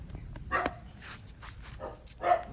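A puppy gives a few short, quiet barks spaced apart, with a final yap louder than the rest against faint background hiss.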